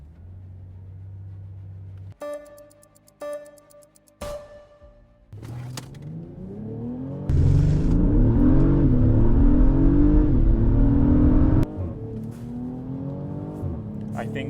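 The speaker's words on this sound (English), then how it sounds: "Okay, we're gonna do the drag race now." An Acura MDX Type S, Audi Q8 and BMW X5 line up for a drag race. Short engine blips and revs come first, then a loud, sustained full-throttle acceleration with rising engine tones, which drops back to a lower drone near the end.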